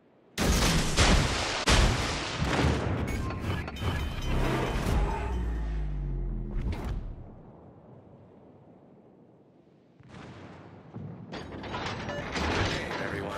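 Heavy naval gunfire booming in World of Warships, with repeated loud salvos and mechanical clanking from the Schlieffen's secondary battery, a quieter lull midway, then more blasts.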